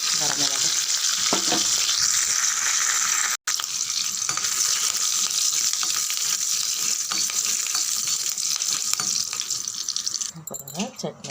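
Mustard seeds and urad dal sputter and sizzle in hot oil in a pan, a dense, steady crackle heard close up that thins out near the end.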